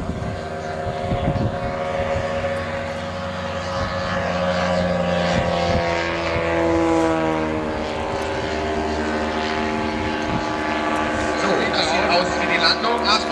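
A Sopwith Pup biplane makes a low pass at an air show, its propeller engine droning steadily throughout while a German announcer talks over it and crowd noise sits underneath.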